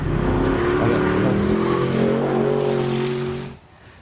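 A car engine revs hard with a steady, loud, sustained drone and rising pitch, then cuts off abruptly near the end; speech is present under the engine noise.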